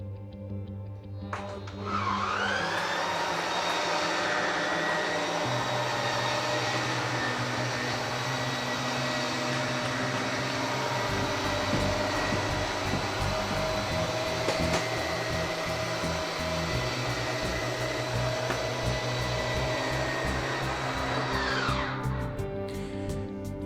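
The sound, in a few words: hydraulic slide-out room of a Riverstone RV moving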